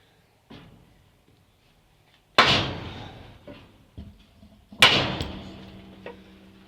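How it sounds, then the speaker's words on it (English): Two sharp metallic impacts of a hammer on a go-kart front axle ring out a couple of seconds apart, each decaying slowly, with a few softer knocks between them; no one speaks. "we'll just give it a knock with a hammer"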